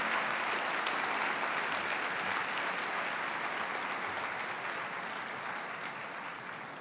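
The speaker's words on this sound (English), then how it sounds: "Let's give our faculty and staff a big round of applause." A large audience at a college spring convocation ceremony for hospitality, recreation and tourism graduates claps in a dense, sustained round of applause that fades slightly toward the end.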